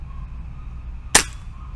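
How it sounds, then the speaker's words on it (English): A single air rifle shot, fired through an RTI assisted valve, cracks sharply and close over a low background hum, then quickly dies away. "So let's take some shots and see where are we with the speed."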